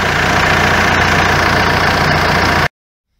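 A Renault Espace 4 engine idles with a loud, steady, even drone and a faint knocking texture, then cuts off abruptly to silence near the end.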